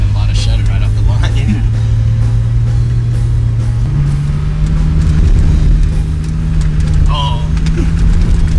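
A Jeep Wrangler TJ engine labors loudly and steadily while climbing through sand, its droning note shifting pitch partway through as the revs change, with rough rattles and shudder riding on top.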